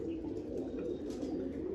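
Low, soft cooing of pigeons kept at a loft, a continuous murmuring tone with faint background noise and no speech.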